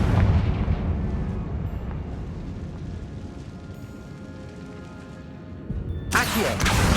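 Confringo fire spell from the Hogwarts Legacy video game, a deep rumbling explosion that rolls and slowly fades, ending in a sudden sharp burst of crackling blast.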